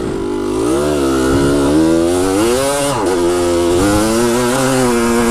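A motorcycle fitted with a Lectron carburetor pulls away in first gear on a hot day, its engine loud and close, revving up steadily with a brief dip before climbing again.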